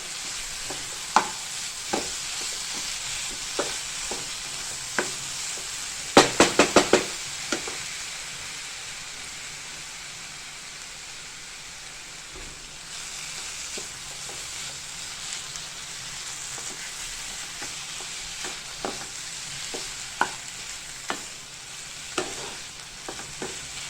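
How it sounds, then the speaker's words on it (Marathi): Modak filling stirred in a pan while it cooks down and dries, a steady soft sizzle with scattered spoon scrapes and taps, a brief cluster of sharp clinks near the middle. "आपल्याला सारण असं जेवढं होईल तेवढं आपण सुकं करून घेणार आहे"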